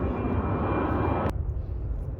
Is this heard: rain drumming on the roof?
no